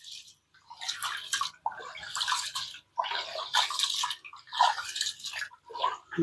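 Ration rice washed in water by hand, with repeated splashing, sloshing bursts in an uneven rhythm, close and fairly loud.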